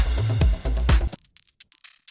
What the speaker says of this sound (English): So I've got some hats here